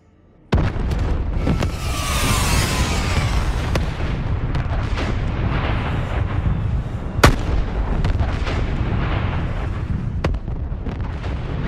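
Sharp sniper rifle shots crack out at intervals over a dense, rumbling battle din in Black Ops 3, a few loud reports standing out against constant low roar.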